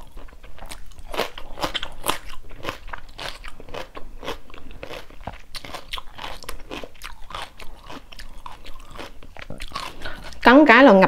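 Crisp, repeated crunching bites and chewing of crunchy rice paper rolls with full toppings, close and steady throughout, ending with a louder burst of crackling.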